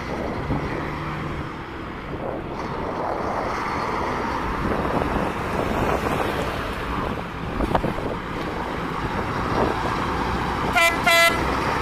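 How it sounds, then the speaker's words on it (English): Three Mack trucks at an outdoor truck show sound their air horns, with brief loud blasts bursting out near the end over steady wind rumble and crowd noise. "Let's see if I can get all three of these Macs to honk."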